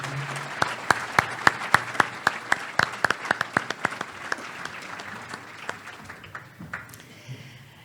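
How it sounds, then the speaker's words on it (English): Sparse, distinct claps from an audience at a park district awards gala, about two dozen separate hand claps at first, thinning out and fading over several seconds, fairly quiet and unaccompanied by talk. "Please join me in a round of applause for the dedication and long-term commitment of these board members."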